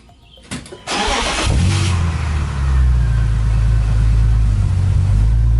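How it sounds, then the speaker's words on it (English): A BMW Z3 M Coupe with an aftermarket exhaust, Turner Motorsports shorty headers and a stock midsection cranks briefly, fires up loudly and settles into a deep, rumbling idle that grows slightly louder, heard up close. "let's talk about the exhaust"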